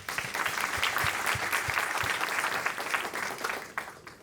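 A large audience at a UN General Assembly health-financing session keeps up a full round of applause, continuous dense clapping that begins to thin and fade slightly toward the close.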